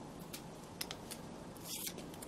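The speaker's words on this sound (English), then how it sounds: "I cut freezer paper with it all the time" Fabric scissors snip through freezer paper in a few faint, short crisp cuts, close by and otherwise quiet.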